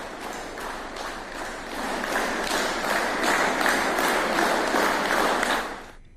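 Railway police officials at a station applaud a police constable who has recovered, with several seconds of steady, dense group clapping that swells slightly and then stops abruptly.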